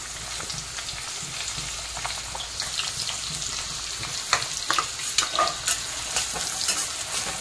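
Sliced onion hitting hot oil already seasoned with cumin seeds and cinnamon for a paneer masala, giving a dense, close sizzle that grows busier with louder spitting pops and stirring scrapes toward the end.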